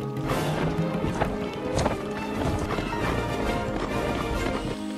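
Horses gallop together toward the finish line of a desert race, a dense rolling clatter of hooves with occasional whinnies, loud and continuous with music-like tones layered underneath.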